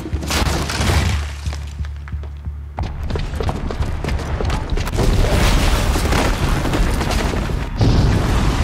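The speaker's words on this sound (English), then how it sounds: "the booby trap on the bomb downstairs is gonna get set off" A bomb goes off in the video game Horizon Zero Dawn, a loud booming blast with shattering debris followed by a sustained rumbling roar and crackling breakup that stays dense and heavy throughout.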